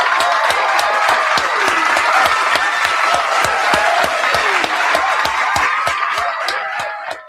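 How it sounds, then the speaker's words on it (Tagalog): An audience claps for the ombudsman, a dense sustained applause with sharp individual claps standing out near the front, running steadily for about seven seconds before tapering at the end. "bigyan naman natin ng palakpak si ombudsman"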